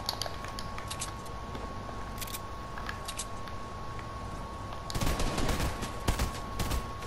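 Video game gunfire in a duo battle royale match: steady bursts of rapid shots at mid distance, growing louder and denser in the last couple of seconds, with no talking.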